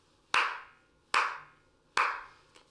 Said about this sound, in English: I'm going to do a few claps and you should hear a bit of echo.